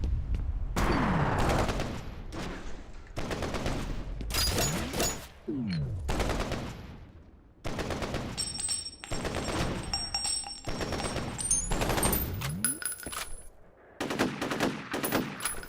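Loud, sustained machine-gun fire in the first-person shooter F.E.A.R. comes in long rapid bursts with short pauses, layered with heavy gunshot reports and echoing impacts, and no voices.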